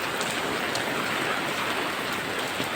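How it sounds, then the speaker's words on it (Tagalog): Heavy rain pours down steadily in a dense, even hiss of drops drumming on surfaces nearby, with no voices. "hindi gaano palakas ng ulan."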